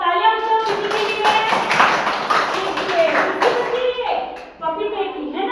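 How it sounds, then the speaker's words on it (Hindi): Children in a classroom clap together in a brisk burst of rapid, uneven claps lasting several seconds, with a voice speaking over the clapping and a few thuds and taps mixed in. "तालियां बजाओ किसी के लिए"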